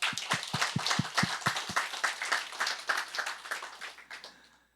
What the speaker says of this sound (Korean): 믿으시면 박수하겠습니다